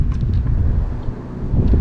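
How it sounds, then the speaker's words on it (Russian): Heavy wind buffets the microphone outdoors during a DJI Mavic Mini drone test, a constant low, rumbling roar. "Ветер бешеный, ребят, поэтому извиняюсь сразу за качество звука."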